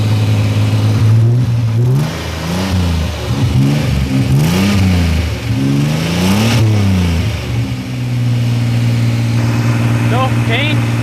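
A car left to warm up sits at a high idle while people talk over it, the engine's steady drone wavering up and down in pitch as if blipped before settling back to a constant hum.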